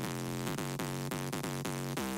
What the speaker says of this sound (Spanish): El bajo principal es este.